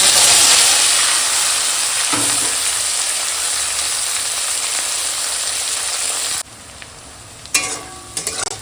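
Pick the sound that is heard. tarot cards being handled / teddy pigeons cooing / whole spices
whole spices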